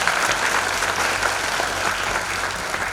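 Audience applause at a seminar, dense continuous clapping from a sizable crowd, loud and even from start to finish.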